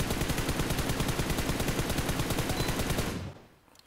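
A weapon fitted with a vertical grip fires a rapid, evenly spaced burst of automatic gunfire in a PUBG Mobile team deathmatch for about three seconds, then stops abruptly and leaves quiet.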